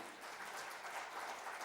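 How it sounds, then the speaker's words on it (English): An audience at the IMAGEXX 2023 event breaks into a short, loud burst of many hands clapping together, a continuous dense patter with no talking. "Can I have a huge round of applause"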